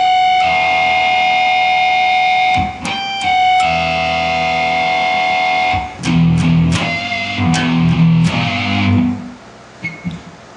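Electric guitar harmonics ring together, bright chiming bell-like tones sustained through an effects unit, followed by fretted, distorted notes with heavier low-end attacks, loud and close with no talking.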